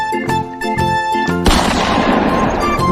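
Toy pistol shooting in a game, several rapid sharp electronic shot effects with ringing tones, followed by a longer noisy burst that fades out.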